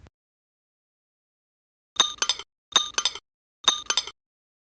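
Coins clink in three short bursts of bright metallic jingling, each a quick cluster of chinks separated by silence, close and clean with no voices.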